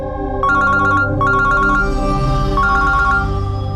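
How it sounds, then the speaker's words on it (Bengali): A mobile phone ringtone plays a loud, repeating electronic melody in short bursts, close by and with no voices over it. "আমি একটু ফোনটা ধরি।"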